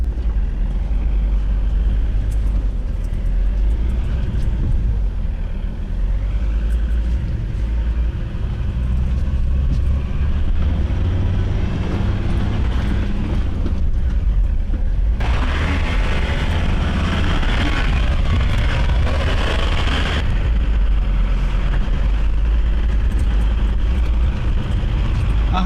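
A Ford Ranger 3.2 TDCi 4x4 drives a rough off-road competition track, its engine a loud, continuous low rumble that rises in intensity for a few seconds midway.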